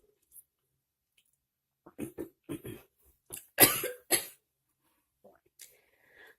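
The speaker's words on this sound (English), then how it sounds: "Sorry about that. I had to cough." A few short, sharp coughs in quick bursts, fairly faint, with brief throat-clearing sounds before and after in an otherwise quiet room.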